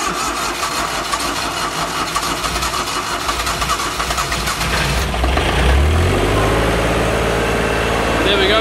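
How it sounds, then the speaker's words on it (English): An engine cranks with a fast rhythmic churning after a glow-plug warm-up, catches, and settles into a steady, loud, low idle. "And we'll fire this up, and if it'll still start"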